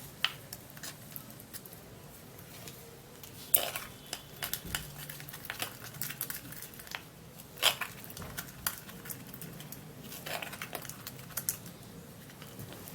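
A spoon or whisk stirs a honey face mask in a bowl, making quick irregular clicks and light scrapes that stay fairly faint and close throughout, with no talking.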